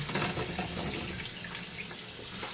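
Cold tap water pours and splashes over drumsticks (moringa pods) sitting in a kitchen strainer, a steady close rushing spray throughout.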